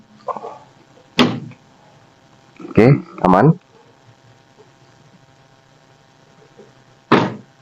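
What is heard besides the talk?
car door of a 1987 Daihatsu Charade G100 closing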